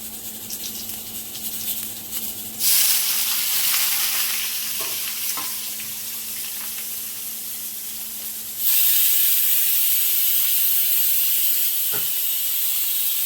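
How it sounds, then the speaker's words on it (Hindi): Chopped onions hit hot oil with cumin seeds in a home kitchen pan for chole, giving a loud, steady hiss of frying that jumps louder twice as more goes in, with occasional stirring clicks. "जीरा चटक गया और अब इसमें मैं प्याज डाल दूँगी।"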